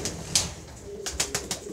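Pigeons coo inside a pigeon loft, several soft, fairly distant calls repeating over a hissy background of rustling and faint movement.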